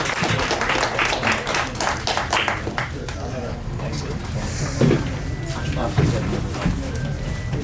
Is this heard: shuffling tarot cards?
no